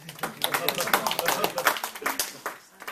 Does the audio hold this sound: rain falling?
no